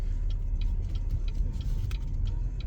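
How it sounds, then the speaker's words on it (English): A car's turn signal blinker ticks at a steady, even rhythm under low engine and road rumble inside the vehicle, fairly quiet and continuous. "Use that blinker."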